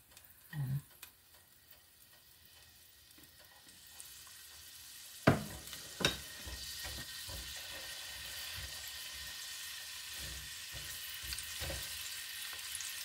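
Garlic and onion sautéing in a pan for squid adobo, a soft continuous sizzle with a few sharp clacks of a utensil against the pan.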